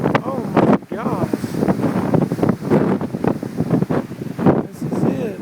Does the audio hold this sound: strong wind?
yes